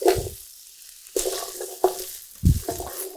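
Chopped celery stalks with their leaves sizzle in a pot for a fried rice dish. Several close bursts of stirring and spattering rise over a quieter hiss between them.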